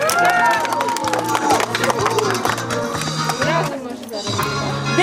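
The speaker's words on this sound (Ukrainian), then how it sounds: "Оплески, дайте гучно!" An audience at an orienteering sports competition award ceremony claps and cheers loudly for a first-place diploma winner, a dense, continuous crowd sound mixed with music throughout.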